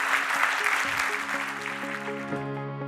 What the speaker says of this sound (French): On l'applaudit encore, évidemment.